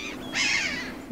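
A single harsh seabird call rings out on the coast of Brittany. It is one rasping, drawn-out cry lasting well under a second, fairly close and clear, and no one speaks over it.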